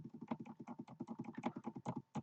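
Rapid, fairly faint keyboard tapping on a computer keyboard, a dense run of short clicks and thunks with a brief gap before a final key press, no voices.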